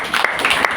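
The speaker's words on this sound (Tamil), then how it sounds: "கைத்தட்டு கொடுங்க அதிகம் மதிஜிக்கு" Brief clapping from a devotional gathering on a guru's disappearance day, a short burst of scattered hands with a voice partly over it.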